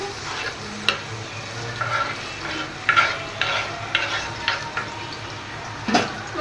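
Onions stir-fried in a pan for a home chicken curry, a low steady sizzle with a series of scraping, clinking stirs and taps spread across the clip, fairly close, no clear talking.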